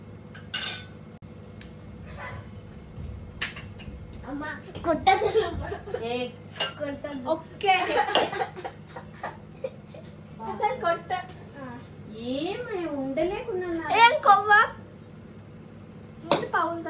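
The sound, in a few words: washing dishes, pots clattering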